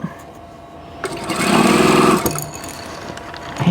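A sewing machine runs a quick, loud burst of stitching down diagonal seam tape on a quilt block, lasting about a second before fading to quieter handling sounds.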